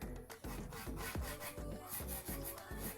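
Nail drill with a reusable sanding bit grinding down badly lifted acrylic on a fingernail, a steady rubbing whir pulsing in short repeated strokes, close and fairly quiet, with no talking.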